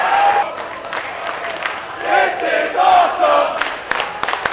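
Crowd at a cosplay pro wrestling show roars, yells and cheers in loud surging waves, with individual shouts and whistles rising above the din, close and energetic.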